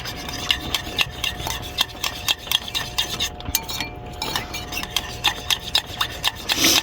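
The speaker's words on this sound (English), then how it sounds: "Get that stirred up really good." Spaghetti sauce stirred in a pot with olive oil, a utensil rubbing and scraping the pot in a steady rhythm of close, repeated strokes with small clinks.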